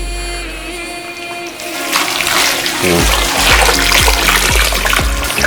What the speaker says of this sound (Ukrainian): Додається вода, суміш зразу зеленіє, стає більш насиченою